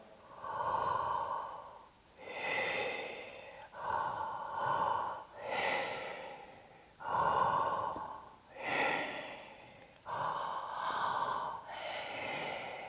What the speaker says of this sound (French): je vais déployer ma respiration avec des rythmes tout simples